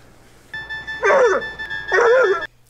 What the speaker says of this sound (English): I want to pet that dog.